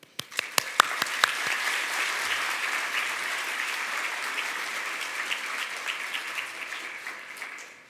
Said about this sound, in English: I would also like to take this moment to give a huge round of applause to our parents